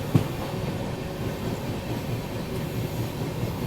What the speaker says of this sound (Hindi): महामना एक्सप्रेस अपनी अभी हापुड़ जंक्शन को स्किप कर रही है